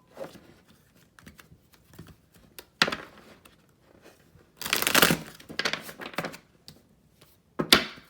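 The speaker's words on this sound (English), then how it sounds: "We can do one more shuffle." Crisp papery riffling in short bursts as tarot cards are shuffled, a couple of longer shuffles with soft taps and slides between them, close up and with no talking.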